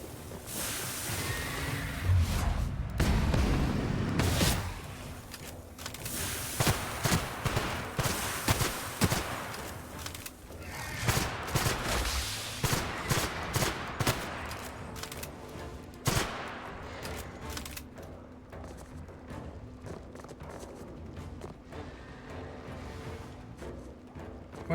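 Enemy gunfire in Outer Worlds rattles in rapid bursts of shots, loud and close at first, then continuing in scattered volleys and single cracks amid combat noise.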